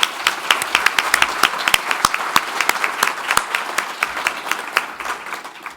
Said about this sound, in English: let's have another round of applause for all of our inaugural distinguished